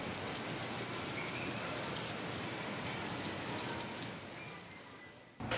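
Steady rain pours down at Coney Island, a dense, even hiss of drops that holds for the whole stretch and then lifts into a louder burst right at the end.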